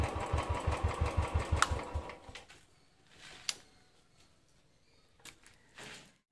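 Car engine idling after a cold start following a week parked, giving a steady low rhythmic chugging for about two seconds before it shuts off, leaving near silence with a few faint clicks and knocks.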